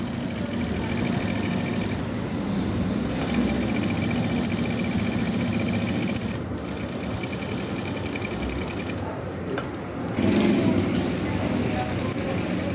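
A sewing machine stitches along the band of a men's kurta with a continuous steady whirring hum, while a voice speaks over it.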